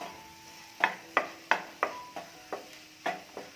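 Chopped button mushrooms being stirred in a pan for mushroom puttu, a string of about eight sharp spoon scrapes and clacks against the pan at a steady rhythm, close and fairly quiet, with no voices.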